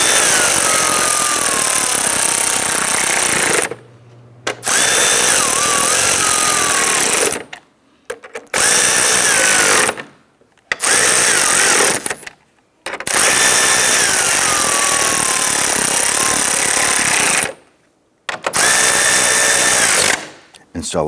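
A power drill snugs screws into the plastic bumper cover of a 2011-2019 Ford Explorer, running in several loud, sustained whirring bursts separated by short pauses.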